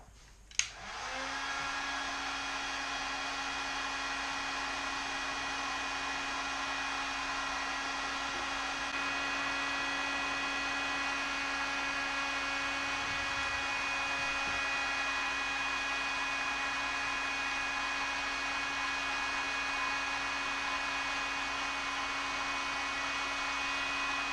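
A heat gun or hair dryer switches on with a click and then blows a steady, loud whir with a constant tone, used to heat PVC pipe for a homemade recurve bow.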